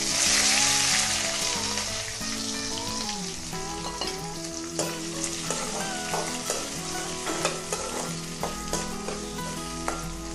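Chopped onions fry in hot oil with cinnamon and fennel for a chicken gravy, giving a loud, steady sizzle with repeated clinks and scrapes of a spoon stirring the pan.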